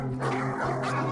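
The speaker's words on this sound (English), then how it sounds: "The dogs." Dogs barking and yipping in a steady run throughout, fairly loud and close, with a low continuous hum underneath and no speech over it.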